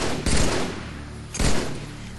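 Two heavy bursts of gunfire in a Halo 3 skirmish, loud and close, each a sharp blast that rings out and decays, the second about a second after the first, with no one talking.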